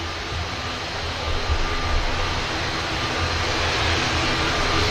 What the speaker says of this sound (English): There goes the ATR.